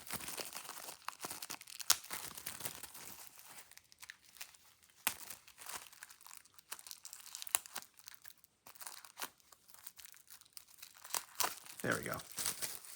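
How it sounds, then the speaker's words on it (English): Plastic shrink wrap being torn and peeled off a CD case, close crinkling, crackling and tearing in irregular bursts over about thirteen seconds, fairly quiet. "let's go ahead and get the shrink wrap off the case"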